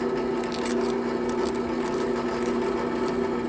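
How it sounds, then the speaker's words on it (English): 320-grit sandpaper rubs steadily against a Pinewood Derby car axle, a continuous close-up friction hiss over a low, even hum that holds unchanged throughout. "this is 320 sandpaper. And what I'm doing is just holding it up here like this to remove any imperfections"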